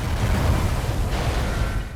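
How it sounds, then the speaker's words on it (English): Explosions aboard a ship in Dishonored: The Knife of Dunwall, a loud sustained rumbling boom that slowly tails off. "the explosions going on actually hurt you"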